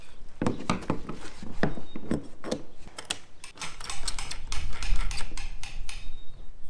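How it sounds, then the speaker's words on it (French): A nut, bolt and washer are tightened by hand on a calf hutch, producing a quick run of sharp metallic clicks and taps, close and fairly loud, in uneven bursts. "Écrou, boulon, rondelle, hop, on serre tout ça."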